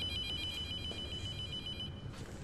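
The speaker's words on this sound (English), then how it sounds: "A ringing phone." An electronic telephone ringing inside an unpowered building in a bodycam horror video game, a steady high tone sounding alone for about two seconds before it stops.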